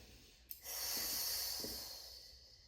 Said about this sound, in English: Big audible exhales here.